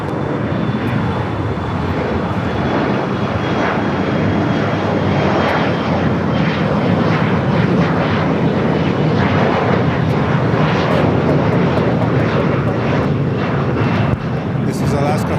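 Engines of an airliner on runway 25 at LAX roar loud and continuous, a dense rumble with rising and falling swells throughout, while radio chatter sits beneath the noise.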